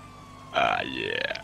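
A police car siren in the GTA V video game starts abruptly and sweeps high and loud, its pitch rising and falling in a wailing pattern over a faint low background hum.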